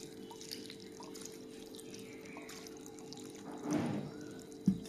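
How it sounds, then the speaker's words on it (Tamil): Water is poured and drips onto poha (flattened rice) set to soak, a soft trickle under a steady low hum, ending in a brief louder splash. "ஃபஸ்ட் நல்லா தண்ணி விட்டுங்க"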